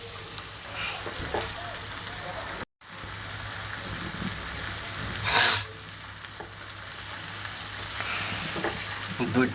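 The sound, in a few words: frying dried loitta fish with eggplant and potato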